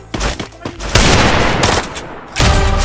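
A mobile shooter game fires loud bursts of rapid gunfire, with a short gap between a long volley and a second one starting near the end.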